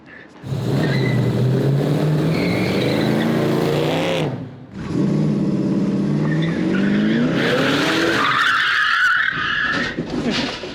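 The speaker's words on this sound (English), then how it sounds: "I'm gonna try and like just drift it." A 1000hp car drifting, engine roaring loud and close with tire squeal and skidding across most of the stretch, a brief drop near the middle, then a harsher screech toward the end.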